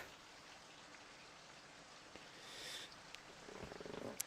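Soft, steady rainfall patters faintly in the otome game Virche Evermore, a quiet continuous hiss of drops with a few brief sharper taps near the end.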